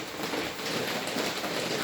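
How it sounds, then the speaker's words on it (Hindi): Steady rain falls on netting covered by a green plastic sheet, a dense, even patter and hiss close by with no pause throughout. "और देखिए बारिश आज पूरी रात हो गई बरसते हुए"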